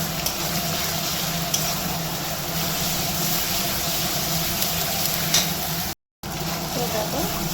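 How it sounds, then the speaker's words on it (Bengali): Ginger and garlic fry with onion in a home kitchen pan, giving a steady broad sizzle with stirring scrapes throughout and one brief dropout near the end. "আদা রসুন পেঁয়াজের সঙ্গে ভালো করে ভেজে নিয়েছি"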